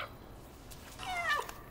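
A single short cat meow from the video game Stray, clear and close over a quiet background hum.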